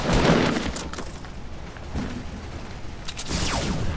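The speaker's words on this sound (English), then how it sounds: "Oh, they're gonna start shooting me" Bursts of gunfire in the Fortnite Battle Royale video game, a few rapid volleys and thuds spread across the moment, heard at moderate loudness amid game noise.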